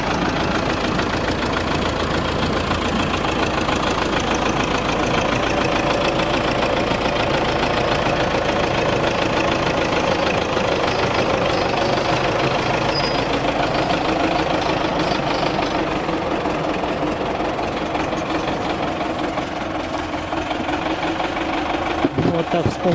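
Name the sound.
tractor engine idling while loading firewood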